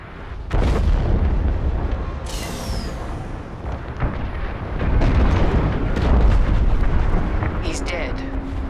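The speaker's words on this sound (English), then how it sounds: "The frigate is about to explode!" A frigate blows apart in the Star Wars Squadrons space-combat game, a loud sustained roaring blast with rumbling low-end bursts and crackling debris lasting several seconds, with a brief rising whoosh and voices speaking faintly beneath.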